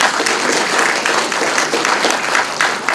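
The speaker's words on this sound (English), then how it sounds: "Let's give her a round of applause." Loud, sustained audience applause, many hands clapping together in a thick, continuous wash with no pauses.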